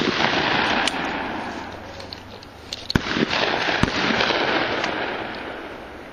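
Two sharp shotgun blasts crack out at a skeet shooting range, fired about a second apart over steady outdoor wind noise.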